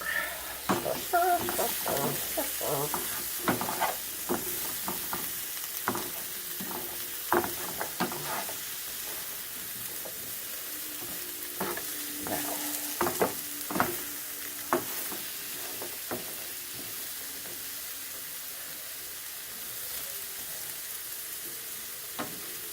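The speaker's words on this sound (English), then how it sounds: "And I stir." Onion chicken fries in a pan with a soft, continuous sizzle, and a utensil stirs it in repeated scraping and clinking strokes for about fifteen seconds before the frying settles into a quieter hiss.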